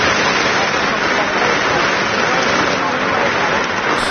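Heavy rain pours down steadily at a landslide rescue site in Karnataka, a dense, loud, unbroken hiss of water on surfaces lasting throughout with no letup.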